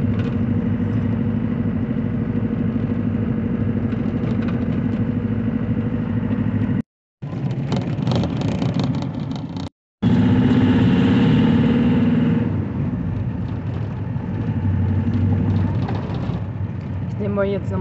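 A car engine runs steadily throughout, heard from inside the car with five people aboard, a continuous hum interrupted by two brief dropouts, with voices talking over it.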